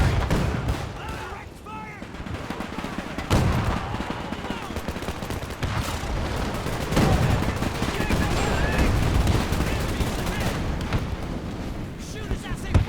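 Soldiers in Men of War II trade gunfire in a tank battle, a dense, continuous clatter of shots and blasts with heavier booms cutting through, heard alongside voice chatter.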